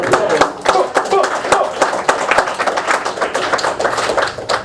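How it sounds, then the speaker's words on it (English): An audience at a 2010 event in Atlanta claps in a steady burst of applause, dense sharp hand claps that continue for several seconds, fairly close and loud. "she definitely needs a round of applause."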